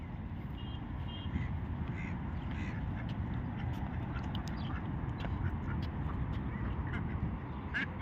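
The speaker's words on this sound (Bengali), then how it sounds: "এখানে এই যে হাঁস দেখা যাইতেছে বাংলাদেশের মতো সেম হাঁস" White ducks quack faintly over a continuous loud background rumble, with scattered short calls throughout, outdoors in Dammam, Saudi Arabia.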